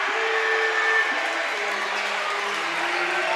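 A high school basketball crowd cheers and claps steadily at The Patrick School versus New Brunswick game, a broad, continuous roar throughout.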